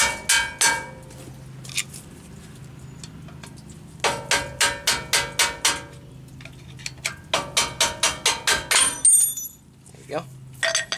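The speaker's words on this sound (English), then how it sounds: "Take your hammer and knock the pin out." Sharp metallic hammer strikes ring out in quick bursts as a brake caliper pin is knocked out of a Dana 44 axle hub, clusters of rapid clinking blows separated by brief pauses.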